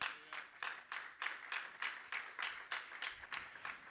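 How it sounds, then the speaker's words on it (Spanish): Congregation clapping in unison in a church, about a dozen steady rhythmic claps evenly spaced, moderately loud with no voices. "¿Cuántos pueden darle palmas?"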